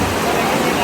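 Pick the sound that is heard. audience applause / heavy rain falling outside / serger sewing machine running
heavy rain falling outside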